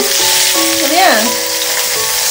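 Fish fries in an iron wok with a loud, close, steady sizzle, a faint tonal whine rising and falling briefly in the middle.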